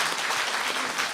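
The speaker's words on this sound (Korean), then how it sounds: "박수 한번 치실래요?" Audience at a district lecture hall applauds for the professor, a dense, steady wash of clapping throughout the short burst.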